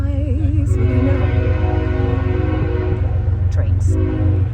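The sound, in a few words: train passing with horn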